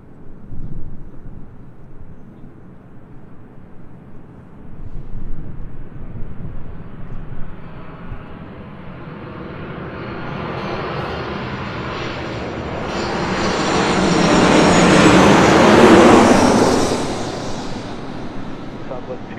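A United Airlines Boeing 737-900ER from Honolulu lands on runway 24 left. Its broad jet roar swells steadily from a distant rumble to a loud peak near the end, then eases slightly.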